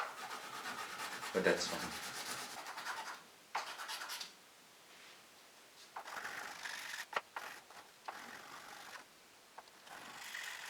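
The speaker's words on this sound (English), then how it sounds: "engaging very well and sanding the frets quite well" Sandpaper on a tool rubbing across guitar frets to level high spots, long close scratchy strokes in repeated passes with short pauses, and a brief spoken remark.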